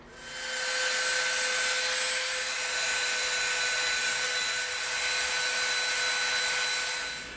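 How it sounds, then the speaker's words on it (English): A Dremel rotary tool grinds and sands the edge of 6mm EVA foam for an EE3 carbine prop, giving a loud, steady high-pitched whine with a gritty abrasive hiss that holds for several seconds without a break. "We're going to soften the edge up on this with our Dremel."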